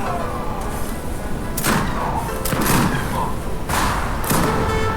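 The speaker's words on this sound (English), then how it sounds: "these grenade throws can be pretty harmful" Grenade blasts burst in a real-time strategy battle in Age of Empires 3: Wars of Liberty, several sharp thuds roughly a second apart over continuous battle noise, with a voice commenting throughout.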